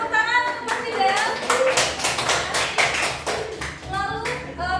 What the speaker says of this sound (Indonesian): beri tepuk tangan untuk Mas Rizal